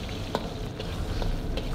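Chopped onions frying in oil in a karahi, browning lightly; a dense, steady sizzle with a few faint spoon scrapes, close and even, no talk.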